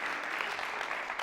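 Brief burst of applause from a club showcase audience, thick, continuous clapping lasting just over a second with no speech on top.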